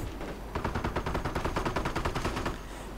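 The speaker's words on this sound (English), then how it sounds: "the American sniper fires, gets 1 MG gun" Rapid, continuous gunfire in a World War II strategy video game, a dense string of evenly spaced shots rattling for about two seconds over steady battle noise, with no voices.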